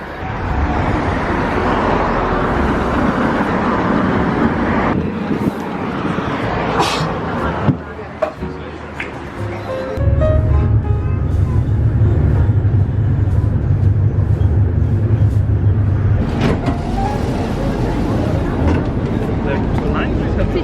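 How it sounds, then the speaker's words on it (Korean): Continuous street traffic rumbles throughout in Prague, with a heavy low drone of a tram passing close by midway while a voice talks intermittently. "10시 38분에 도착하는 트램을 타고 이동할 거예요"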